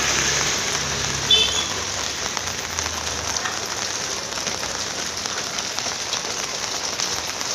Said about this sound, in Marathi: 5-6 वाजल्यापासून लय जोरदार पाऊस चालू आहे.